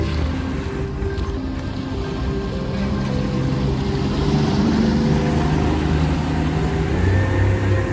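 Speedboat running on the Alappuzha backwaters, its engine a loud, steady close drone with water rushing and wind buffeting throughout, no break in the roar.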